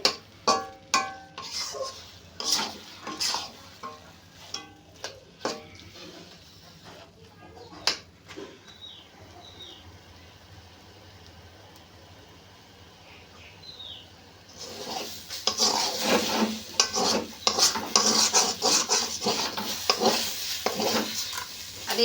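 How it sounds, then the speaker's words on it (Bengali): Mashed taro leaves stirred in a wok: a spoon scrapes the pan in repeated sharp strokes, then a quieter stretch, then steady sizzling with more scraping. A voice speaks now and then. "কড়ার তলায় যাতে লেগে না যায় এইভাবে একটু নাড়তে হবে"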